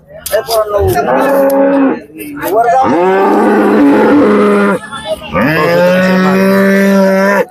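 Loud, close cow moos at a cattle market in Baramati, three long drawn-out bellows separated by short pauses, with some brief voices or noise at the start.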